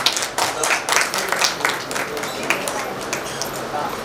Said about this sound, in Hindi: उनका भी ताली बजाकर स्वागत करें